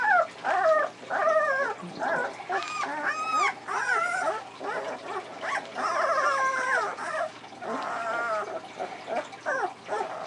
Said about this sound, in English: I think Ringo's going to be a whiner